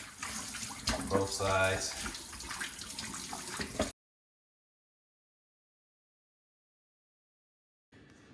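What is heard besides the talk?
raw pork spare ribs being washed under running water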